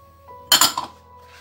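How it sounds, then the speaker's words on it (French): A utensil clinks against a bowl while stirring a meatball mixture with grated gruyère and flour, a quick cluster of three or four light taps, with no one talking. "Je mélange le tout."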